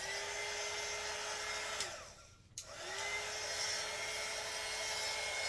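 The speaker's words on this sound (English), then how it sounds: "Okay, heat gun out." A loud heat gun roars with a high whine, cuts out briefly, then spins back up and keeps blowing hot air steadily.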